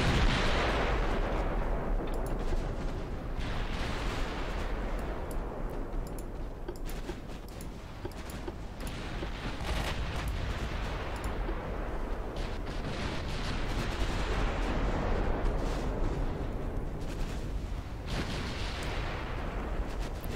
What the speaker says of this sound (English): Very nice torpedo detonation on this battleship.